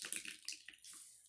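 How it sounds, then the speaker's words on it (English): A washed cloth mask is squeezed by hand, releasing a brief, faint trickle and splash of water in a few quick spurts, close and quiet with no talk. "So now, I'm going to rinse the water out. Well, squeeze the water out."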